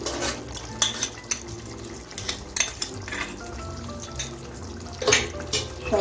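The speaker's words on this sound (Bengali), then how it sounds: "সব কিছু মিশিয়ে 1 মিনিটের মতো আরও রান্না করে নিচ্ছি।" A utensil stirs ghee and spices into doi lau, a yogurt and bottle gourd curry, in a pan, making a steady low sizzle broken by frequent scraping clinks against the metal.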